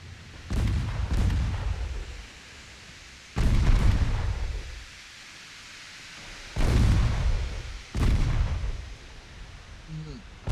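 Torpedo detonations in the naval game Ultimate Admiral Dreadnoughts, four deep booming blasts each followed by a rumbling decay, separated by quieter gaps.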